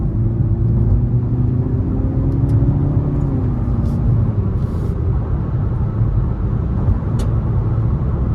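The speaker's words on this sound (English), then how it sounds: "I'm gonna give it a little bit of throttle. And this is without paddle shifters. I'm just gonna see how it shifts." 2023 Nissan Altima SR VC-Turbo accelerating under light throttle without paddle shifters, a steady cabin drone whose engine tone climbs, then drops as it shifts, over constant road rumble.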